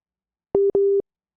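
Busy tone on a dropped phone call-in line: two clean electronic beeps in quick succession, loud and isolated in silence.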